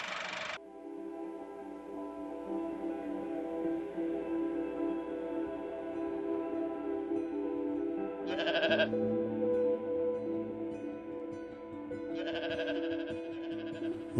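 Sheep bleat in a long sustained cry followed by two shorter calls later on, loud and close, with no talk.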